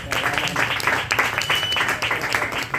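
A church congregation claps in sustained applause, a thick, even patter of many hands filling the room for a few seconds.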